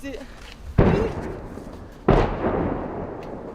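Two loud, sharp artillery booms about a second apart, each rolling off into a long rumbling tail, close by and startling, in Vovchansk, Kharkiv region, Ukraine.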